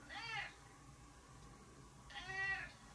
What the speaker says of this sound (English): Listen to him meow.